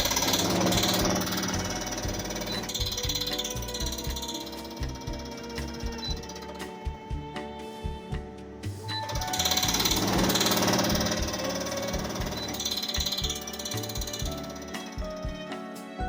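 A Haier HPB10XCR portable air conditioner runs with a rough mechanical rattle, a repetitive knocking and ticking over its steady hum, swelling and easing in waves, close and fairly loud with no talking.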